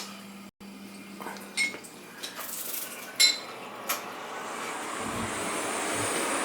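A gas boiler that leaks water from its relief valve is switched on. After a few light metallic clicks and taps, its burner ignites into a low, steady roar that builds in the last couple of seconds.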